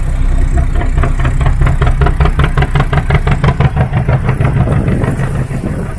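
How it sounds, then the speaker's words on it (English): An old hand-cranked narrowboat engine idles loudly up close, with a steady rhythmic knocking chug that holds even throughout. "But the sound of his engine is fantastic."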